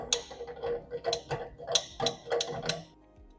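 An exhaust filter is unscrewed by hand from a 2Create metal 3D printer, producing a quick series of crisp, close ticking clicks at an uneven rhythm that fade at the end.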